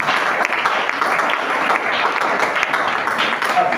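A church congregation claps loudly and continuously, a dense steady roar of many hands, with faint voices underneath.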